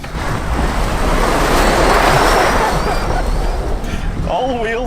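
An electric Jeep Gladiator accelerates hard from a launch, producing a loud, continuous broadband rush of road and wind noise that swells and holds steady for several seconds, with a voice starting up near the end.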